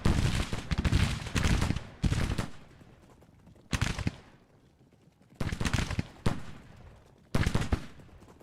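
Volleys of musket fire from Civil War troops in a Western Theater battle, with several loud, dense crackling bursts of massed shots separated by quieter gaps, some ragged firing trailing between volleys.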